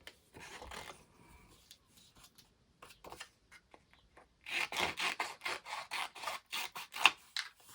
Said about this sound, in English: I'm just taking my scissors, it's just a rough guide, so I'm just going to cut that off